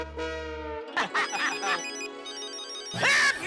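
A mobile phone ringtone plays a loud melodic tune, briefly broken by excited voices talking over it before the ringing resumes.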